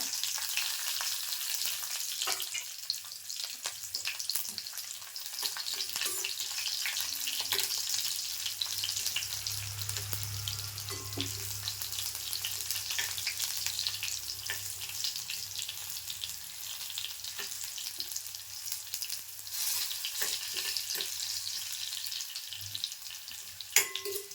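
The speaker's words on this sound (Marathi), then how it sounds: "आता मी लसूण पण टाकते फोडणीला" Continuous crackling sizzle of garlic frying in hot oil for a tempering, close and steady, with faint stirring clicks and no voices.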